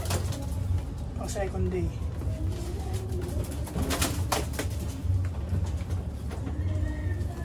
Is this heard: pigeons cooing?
yes